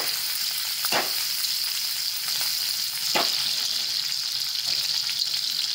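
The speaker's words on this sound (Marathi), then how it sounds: "चांगले तळून घ्यायचे" Potatoes frying in about two spoons of hot oil for dam aloo, a steady bright hiss of sizzling with a few sharp scrapes or clicks of stirring, close and fairly quiet.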